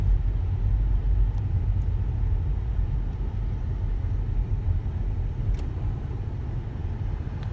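A car crawls along a dusty forest track strewn with sticks, its engine and tyres producing a steady, loud low rumble from inside the cabin, unbroken for several seconds with no talking.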